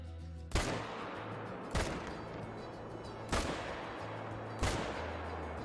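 Gunfire in a deer-hunting video game, four loud, sharp shots spaced roughly a second or more apart, each with a short decaying tail, over a low ambient hum.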